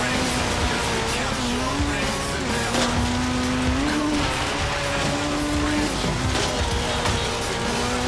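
A car drifts in Forza Horizon 3, tires squealing in long wavering tones over a loud engine roar, close and continuous throughout.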